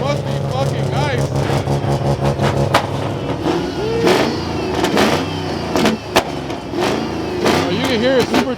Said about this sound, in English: you can hear it supercharging